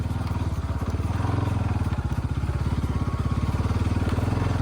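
A motorbike engine runs with a steady, rapid thumping pulse, close and fairly loud throughout, with no voices over it.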